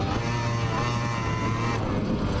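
A steady Yamaha DT200R motorcycle engine drone while riding, a continuous low hum, loud and close, holding an even pitch throughout with no pauses.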